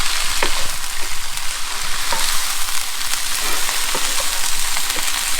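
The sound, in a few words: kalua pig being stirred in a sizzling pan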